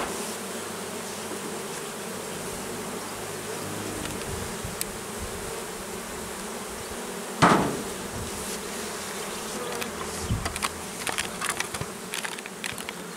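A steady, dense hum of many honeybees buzzing close around a hive, with a sharp knock partway through and some faint clattering near the end.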